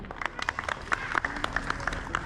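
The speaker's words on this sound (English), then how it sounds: "You need to clap, please." Scattered audience clapping at a Republic Day celebration at a Hindu temple in Arua, steady and moderately loud through the whole moment, with individual claps standing out over a murmuring room.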